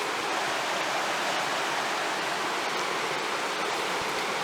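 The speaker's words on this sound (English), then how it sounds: "And Slippery Rock Creek is rated as a class 3 to 5 rapid." Slippery Rock Creek rushing over class 3 to 5 rapids at low water, a steady, full broadband roar of flowing water, continuous and close, with no voices.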